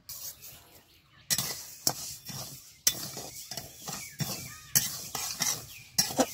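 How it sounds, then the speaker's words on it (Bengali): Mung dal dry-roasting over low heat in a dry wok, with rhythmic scraping strokes of a spatula and a rattle of dry lentils against the metal, starting after a near-silent moment. "শুকনো কড়াই মুগ ডালটা এইভাবে আমি হালকা জালে ভেজে নিব"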